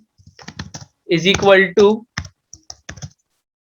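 Python code being typed on a computer keyboard, with light, scattered key clicks in short bursts and a brief voice in the middle.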